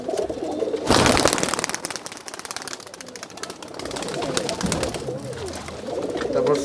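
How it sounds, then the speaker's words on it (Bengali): Pet pigeons in a loft cooing repeatedly, soft throaty calls near and far with occasional wing flutters, while people talk over them. "ভালো কবুতর।"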